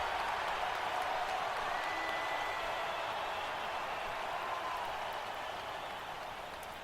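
An excited home crowd at a college basketball game, with Albany the visiting team, makes a continuous wash of cheering and applause that stays loud and even throughout, then eases slightly at the end.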